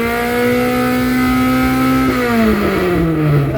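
A Mitsubishi Lancer with a 4G92 DOHC MIVEC engine holds a loud, close rev around 5,000 RPM, a steady strong engine tone that climbs slightly and then drops away as the throttle is released.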